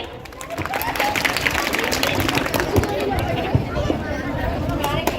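Audience clapping at a comic Urdu poetry recital (mushaira), a steady dense patter of applause with crowd murmur and voices mixed in, moderately loud and sustained.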